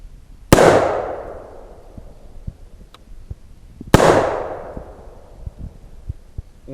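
Two loud, sharp gunshots from an AR-15 rifle or 1911 pistol, spaced about three seconds apart, each followed by a ringing echo tail, with faint clicks and handling noises between them.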